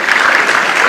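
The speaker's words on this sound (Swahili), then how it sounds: "Board members ya Kenya Railway wote wasimame, tuwapigie makofi." Steady applause from an assembled audience greeting the Kenya Railways board members as they stand, a dense, even clatter of clapping that fills the whole moment without pause.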